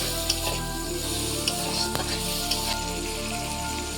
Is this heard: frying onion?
yes